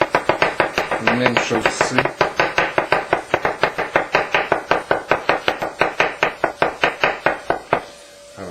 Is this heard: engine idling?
no